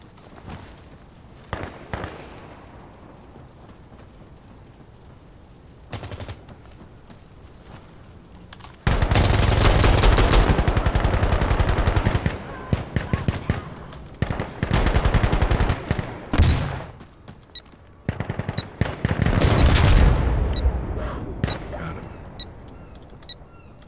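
Rapid L85A2 rifle fire in the tactical shooter Insurgency Sandstorm comes in loud, close bursts after a quieter stretch of faint clicks and distant shots, with brief pauses between volleys.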